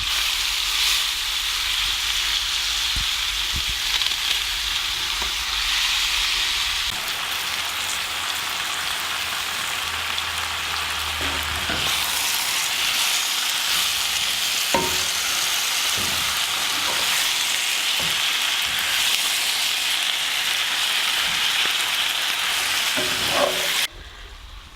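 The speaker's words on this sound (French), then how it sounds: "Sans ajouter d'eau, cuire doucement quelques minutes." Food cooks gently in a pan without water while making chickpea and spinach tapas, a continuous soft sizzle like light rain with occasional faint taps and stirring scrapes, steady and close, ending abruptly.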